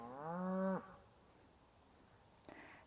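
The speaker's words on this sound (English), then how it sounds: "you might be hearing a lot more animal noise around me because the cows seem to be going berserk at the moment" A cow lets out one loud, close moo near a garden. Quiet follows, with a faint click near the end.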